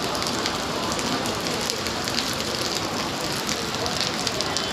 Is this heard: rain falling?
yes